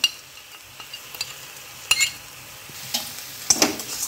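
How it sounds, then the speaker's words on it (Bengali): Spice paste with red chilli powder and sugar is stir-fried in a pan for a cauliflower and shrimp curry, a faint frying hiss punctuated by several sharp spatula scrapes and clinks against the pan. "মশলাটা ভালো করে কষিয়ে নেব।"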